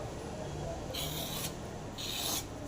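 A peeler scrapes the skin lightly off a ridge gourd in two short rasping strokes, close and clear over a steady background hiss.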